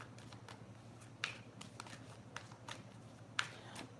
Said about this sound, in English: I'm just doing a quick little shuffle.